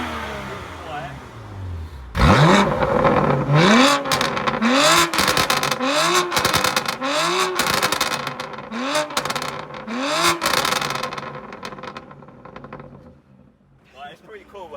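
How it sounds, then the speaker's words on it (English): Tuned BMW M2 Competition, stage 1 plus with an active equal-length exhaust, starting up with its exhaust valves closed: a loud crank and catch, then a burst of repeated revs rising and falling before settling into a lower idle, with people talking over it. "This is an M2 competition, stage 1 plus, with a active equal length exhaust system. So I'm going to start it up on valves closed."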